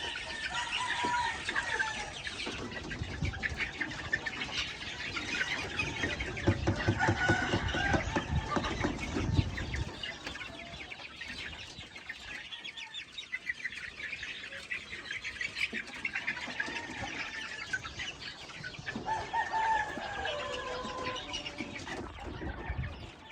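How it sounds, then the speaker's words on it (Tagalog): Chickens and young chicks cluck, squawk and chirp continuously while pecking at feed given to them, a busy flock heard close by with rustling, no talking. "mga sisiyo na ito ay hindi pa sanay dahil first time pa nilang kumain ng ganon."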